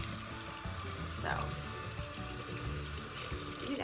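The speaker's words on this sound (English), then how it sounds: "you want to keep the water running down the brush" Tap water runs steadily over a makeup brush in a bathroom sink during cleaning, a continuous close splashing stream with a faint gurgle throughout.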